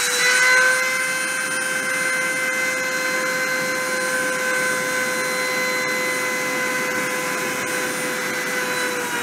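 A machine spindle runs at 30,000 RPM during deposition, producing a loud, steady high-pitched whine with tonal overtones and a constant rushing hiss for the whole stretch, alone without speech.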